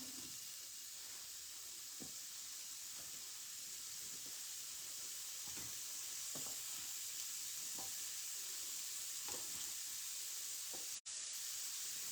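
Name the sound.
vegetables sizzling on a double burner grill pan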